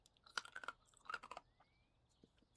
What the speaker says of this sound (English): that's me chewing on a little piece of ice.